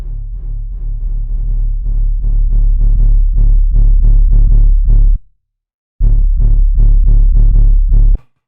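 A heavy, bass-driven Jersey club drum loop thumps steadily with automated reverb, fully wet before turning dry at the fifth bar, drops out briefly for a moment of silence, then returns with the same punchy pattern before ending.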